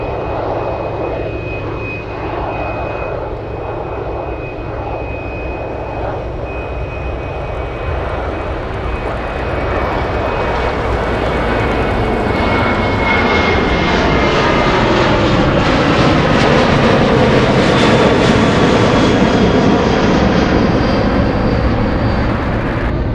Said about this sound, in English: currently racing down the runway, we have an Alaska Airlines 737 flying to Fairbanks